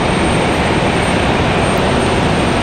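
SAS jet airliner passing at Raleigh-Durham International Airport, a loud steady broadband engine roar holding even for a few seconds with no voices.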